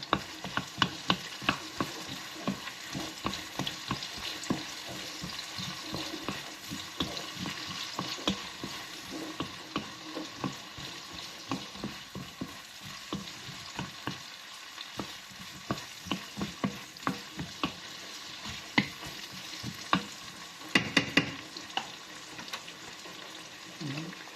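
Onions sautéing in a pan for pork kaldereta: a continuous sizzle broken by frequent clattering stirs of a utensil against the pan. It stays close and fairly loud, with a short quieter moment midway.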